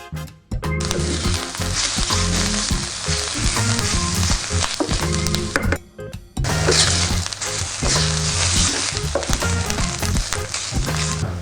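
Oyster mushrooms fry and caramelize in a hot pan for a vegan brandade, with a loud, dense sizzle and scraping stirs that dip briefly midway before the frying roars back.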